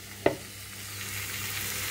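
Shing fish sautés in a pan with a continuous soft sizzle, opened by a single sharp knock of a spatula against the pan, close and without talk.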